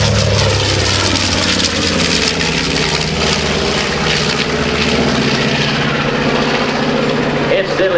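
A B-25 Mitchell bomber with two Curtiss-Wright 2,600 cubic inch radial engines at the Dover AFB airshow gives a loud, sustained propeller drone and rumble close by, with a public-address voice underneath.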